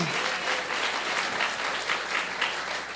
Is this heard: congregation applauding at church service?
yes